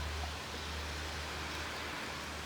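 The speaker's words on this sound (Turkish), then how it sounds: "Şu anda usul usul yağıyor yağmur." Soft, even hiss of light rain falling gently on a covered rooftop terrace, a continuous quiet wash with a low hum beneath and no talking.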